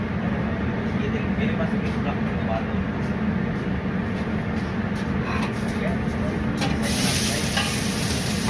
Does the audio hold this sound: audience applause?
no